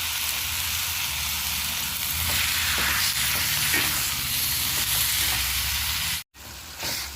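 Tomatoes and salt sauté in a masala in a pan, giving a steady close sizzle with scraping stir strokes for several seconds and no talk, then a brief dropout near the end before the frying resumes.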